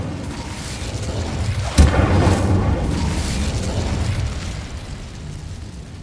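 The Incendio fire spell from the video game Hogwarts Legacy goes off as a sudden loud boom, followed by a rumbling, crackling burst that slowly fades over several seconds.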